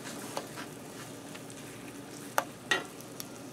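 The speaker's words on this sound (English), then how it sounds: "Now I'm going to go ahead and fill my pan up with potato cakes" Bacon and cheddar mashed potato cakes sizzle faintly in a pan under a low steady hiss, with a few sharp clicks and scrapes of a spoon against the pan near the end.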